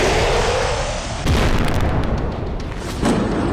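A heavy explosion from an attack on an American HIMARS rocket system in the Russia–Ukraine war hits with a sudden loud boom over constant rumbling noise, followed by further blasts and rolling roar, with no speech.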